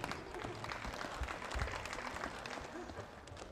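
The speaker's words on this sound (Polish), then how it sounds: "Drodzy państwo, gorące brawa" Applause and crowd noise fill a hall during a grappling tournament in Suwałki, a steady dense clapping wash throughout with no break.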